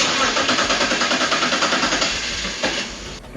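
A BMW 330Ci engine cranks and runs with a misfire, its steady mid-pitched drone pulsing with an uneven, rhythmic stumble, close and loud throughout.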